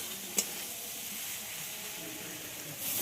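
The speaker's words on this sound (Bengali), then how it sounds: "আঁচটা মিডিয়ামে রেখে ঢ্যাঁড়সটাকে খুব ভালোভাবে কষিয়ে নিতে হবে।" Okra sautés in mustard oil in a pan over medium heat, giving a steady broadband sizzle with one brief clink early on and a swell of hiss at the end, no voices.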